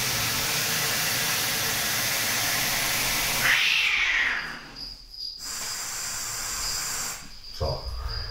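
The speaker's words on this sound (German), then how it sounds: "Im Hintergrund hört ihr, dass die Katzen sich wieder ein bisschen fetzen" Cats fight: a rising, drawn-out yowl is followed by rough hissing bursts, loud over a constant background hiss, with a short scuffle near the end.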